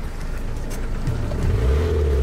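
A diesel car running on petrol keeps going, its engine a steady low rumble that swells slightly louder partway through, heard from inside the moving vehicle with no talk.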